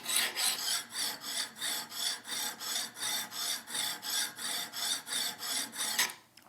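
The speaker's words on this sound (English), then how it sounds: "I just grab the file and go for it." A hand file rasps along the edge of a steel card scraper in about fifteen even back-and-forth strokes, a close, gritty, rhythmic scraping that stays steady throughout and ends with one final stroke.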